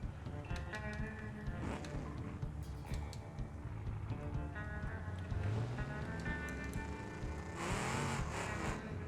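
Car traffic in a racing video game, heard while drifting among other vehicles. Engine drone runs throughout, with rising pitch sweeps and a louder surge near the end.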